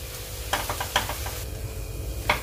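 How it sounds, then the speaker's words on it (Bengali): Vegetable bread roll filling with tomato sauce being mixed in a pan, gentle sizzling under a few quick spatula scrapes and taps, close and brief, with no voices. "এবারে সবগুলোকে আমি একসঙ্গে ভালো করে মিশিয়ে নিচ্ছি।"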